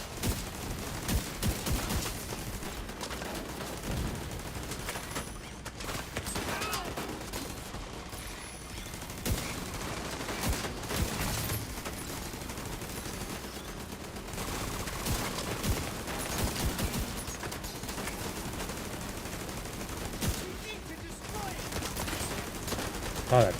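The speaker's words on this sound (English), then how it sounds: "Oh, that turret is fucking killing me." Dense, continuous turret gunfire and other shooting in The Division 2, loud bursts packed across the whole stretch with a player's voice talking over the din.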